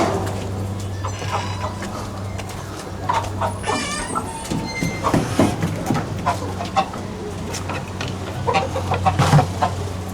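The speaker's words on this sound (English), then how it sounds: "So these are the birds." Chickens and other fowl in a compound yard in a Kenyan slum, clucking and calling in scattered bursts over a steady low hum, with other animals nearby.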